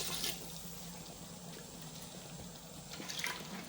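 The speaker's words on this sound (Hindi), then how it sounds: "तो अब मैं साथ ही इसके अंदर पानी ऐड कर रही हूँ।" Water pours steadily into a cooking pot while making Afghani biryani pulao, a continuous splashing stream at close range with no talk.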